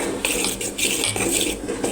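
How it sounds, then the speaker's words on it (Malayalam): A spoon stirs a sweet ripe-banana mixture in a metal pot on a stove, making repeated close scraping and clinking strokes in an uneven rhythm, with no one talking. "നമുക്ക് നന്നായിട്ട് ഇളക്കാം ഇവിടെ ഞാൻ പാത്രം സ്റ്റവിൽ വെച്ചിട്ടുണ്ട്"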